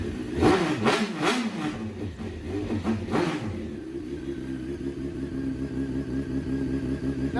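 A Honda CBR 929RR motorcycle revs through its exhaust pipe in a few sharp throttle blips, then settles into a steady, close idle rumble.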